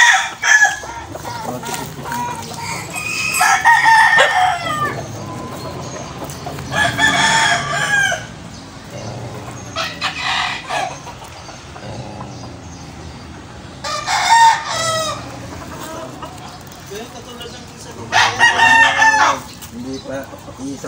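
Roosters at a small fighting-cock farm crow repeatedly, several loud cock-a-doodle-doos spaced a few seconds apart, over a background of clucking and other fowl.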